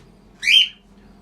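A single short bright chirp from a pet cockatiel or budgerigar in a mixed cage, about a third of a second long, clear and fairly near over a faint low hum.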